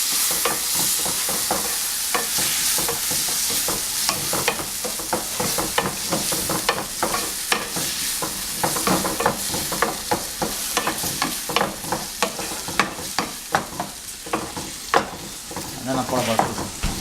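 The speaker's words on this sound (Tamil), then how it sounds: "தக்காளி நல்லா வதக்குங்க." Tomatoes sauté in a hot pan for kothu parotta, giving a constant bright sizzle with rapid, rhythmic stirring scrapes and clicks throughout, close up and loud, with no speech.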